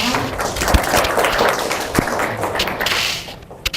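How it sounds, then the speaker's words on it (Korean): A lecture audience at a Korean culture event applauds to welcome a Seoul National University literature professor, with dense, steady clapping that holds for several seconds and then tapers off. "큰 박수 부탁드립니다"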